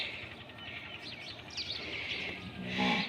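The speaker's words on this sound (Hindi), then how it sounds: "ये कौवे भी आ गए हैं सुबह सुबह," Crows calling in the early morning near a rural home, a few short harsh caws at moderate distance over a quiet background, the last one nearer and louder.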